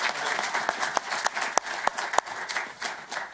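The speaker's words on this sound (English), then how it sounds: "hopefully a lot of applause from everybody" An audience at a microengineering school lecture applauds after a talk, giving steady, dense clapping with a few louder individual claps standing out, sustained throughout without speech.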